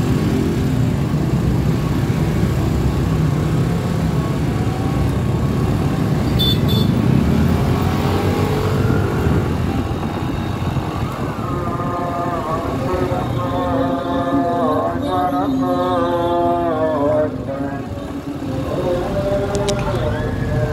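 Busy night traffic of cars and motorcycles at a junction on Jalan Raya Condet during the 2022 Eid eve takbiran, a constant loud engine rumble with passing motorbikes and a brief horn, while someone talks throughout.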